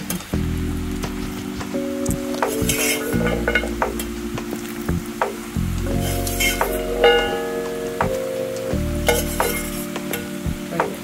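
Peanut pakodi deep-frying in hot oil, with a steady close sizzle and bubbling that runs throughout, plus occasional stirring scrapes and light clinks and no talking.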